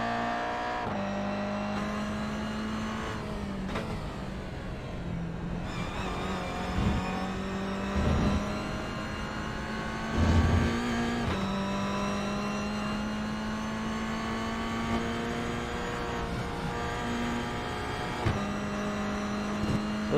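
A Toyota GR86 race car engine in a racing sim game drones continuously at high revs, the pitch dipping for a lift or downshift around corners and climbing again, loud and steady throughout.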